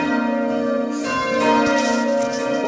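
Church bells ring at St. Mary's in Eastry, UK, a steady, resonant peal of overlapping tones sounding close and clear with no voices.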